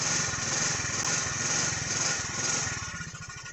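A 2004 Polaris Sportsman 420 ATV, in two-wheel drive, runs its engine steadily while the rear tires spin: a loud, buzzing, close drone with a slight dip near the end, and no talking.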